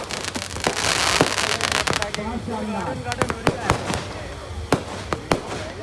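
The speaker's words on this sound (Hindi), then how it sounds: "उधर देखिए जबरदस्त आतिशबाजियां ड्रोन पर चला करके इन्होंने की है।" Fireworks at a village mela, launched from a drone, crack and pop repeatedly in sharp bursts over a dense crowd murmur, with several loud nearby bangs late on and a person speaking briefly.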